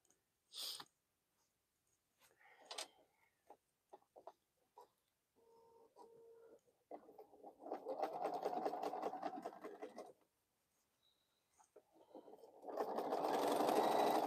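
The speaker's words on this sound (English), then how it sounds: "I'm sewing on the boho heart" Bursts of a sewing machine stitching a boho heart appliqué onto a quilted piece, with intermittent short runs and two longer whirring passes, separated by quiet gaps and small handling sounds.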